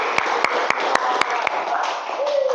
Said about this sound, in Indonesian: Oke, tepuk tangan untuk kita semua ya.